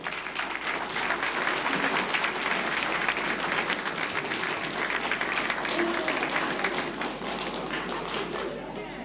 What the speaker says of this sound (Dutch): een keer een applaus voor de geweldige manier waarop die dansen